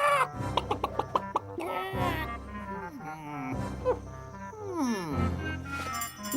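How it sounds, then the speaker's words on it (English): A cartoon rooster in an animated nature film crows and clucks loudly in repeated excited bursts, backed by dramatic orchestral music with rising and falling swoops. "Look out, everyone! The rooster's coming!"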